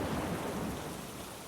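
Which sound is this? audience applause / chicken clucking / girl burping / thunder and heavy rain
thunder and heavy rain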